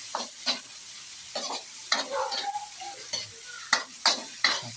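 Pork pieces sizzling in a pan for pakbet, with repeated sharp stirring scrapes at a steady rhythm over a constant frying hiss, close and moderately loud, no talking.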